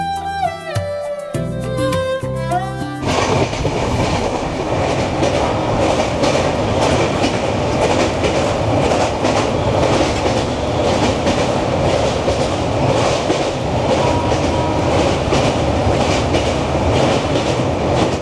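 Sealdah–Puri Duronto Express running, heard from inside an S4 coach: after a few seconds of music, loud, steady rolling clatter with repeated clickety-clack wheel beats continues to the end.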